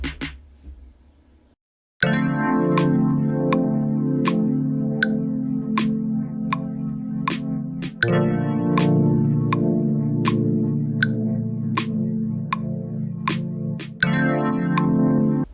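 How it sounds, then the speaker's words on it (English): A lo-fi snare drum sample triggered in Ableton Live plays on a steady beat over sustained harmonic chords, each snare hit a crisp tick at a regular rhythm, clean and loud with no talk. "Let's go ahead and we'll add our snare in, which sounds like this."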